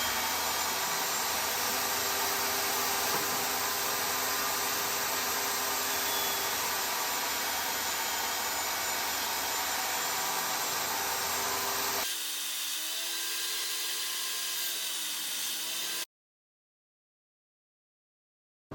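A table saw cuts dados in wood boards for a laundry room storage build, a steady loud whine for about twelve seconds, then a quieter spin-down hum before abrupt silence.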